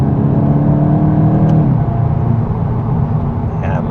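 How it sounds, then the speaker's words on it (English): A 2026 VW Golf 8.5 GTI accelerates in third gear from inside the cabin, its engine note droning loudly and rising steadily in pitch over a constant road rumble. "Let me just drop down to like third gear and do an in-gear acceleration"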